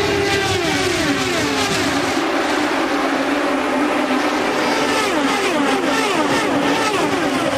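IndyCar race cars roar through turns 3 and 4 at Kansas during the 2008 RoadRunner Turbo Indy 300, a dense, continuous engine wail with shifting pitch sweeps as cars pass, loud and steady throughout.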